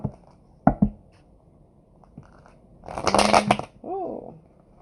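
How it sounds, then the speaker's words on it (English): A deck of tarot cards is shuffled, a few sharp taps followed by a dense riffling burst and a softer flutter, close and alone in a quiet room. "Oh, guess it's time to stop shuffling the deck."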